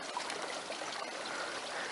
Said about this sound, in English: I can definitely hear it directly underneath my feet. I think it's coming through all these holes in the rocks.